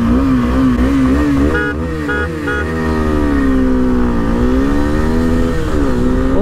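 KTM Adventure 250 and Suzuki V-Strom 250 motorcycles race side by side in a drag run, engines revving hard and loud and rising in pitch through the gears, with a steady roar the whole way and no talk.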